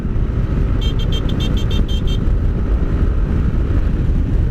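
A Yamaha NMAX V2.2 scooter engine revs hard on the road during break-in, a loud, steady broadband drone with wind roar lasting throughout, plus a brief run of rapid high beeps early on.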